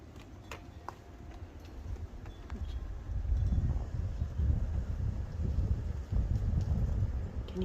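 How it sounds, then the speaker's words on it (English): Wind gusting outdoors on a calm New Year's Day, a steady low rumble that swells louder after the first few seconds and keeps buffeting near the microphone, with faint ticks scattered over it. "The wind's blowing."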